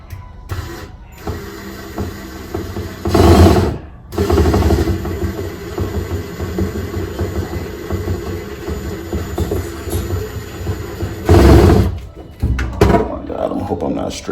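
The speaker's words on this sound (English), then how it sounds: "Go back in with your drill." A power drill drives a screw into a PVC reptile enclosure during a heat panel install, two loud grinding bursts separated by steady mechanical rumble, with some background noise between.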